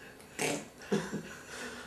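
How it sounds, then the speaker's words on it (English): A few quick, croaky burps come close together, loud and near, with a short pause between the first and the rest. "Those are interesting belches."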